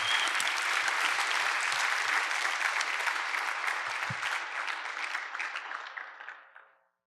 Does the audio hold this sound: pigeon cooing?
no